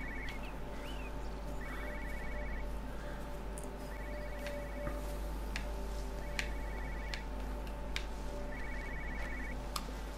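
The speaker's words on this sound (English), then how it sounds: "I hear a phone kind of that way." A telephone rings in the video game Everybody's Gone to the Rapture, in repeated short trilling bursts at regular intervals, faint behind a steady hum and scattered ticks.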